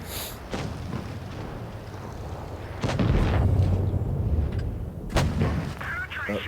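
Tank guns firing in the video game World of Tanks Blitz, with sharp booming shots at the start, around three seconds and again near five seconds, all over a dense, rumbling battle background.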